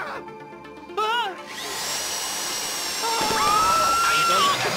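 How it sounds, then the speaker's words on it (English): A power drill grinds during a bank heist in GTA Online, its whine rising and settling into a steady high-pitched drone after a brief burst of tonal game sounds. "How you doing with that drill?"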